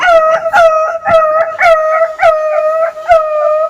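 A boy imitates a small dog with his voice, giving a quick series of high, yelping barks and short whines in an uneven rhythm, close and loud, with no other talk.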